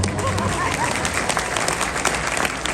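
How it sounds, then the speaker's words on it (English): Dense audience applause fills an interview hall, steady and loud for the whole stretch, with a crowd murmuring beneath the clapping. "Round of applause"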